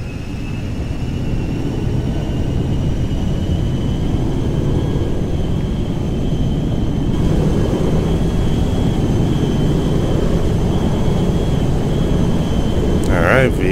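Air Force One jet in the video game GTA 5 rolling for takeoff, a steady, loud broadband engine roar that swells slightly over fourteen seconds with a faint whine on top.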